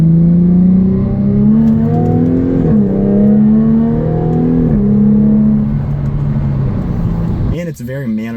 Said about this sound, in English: You just step on the gas and it'll take off like a rocket.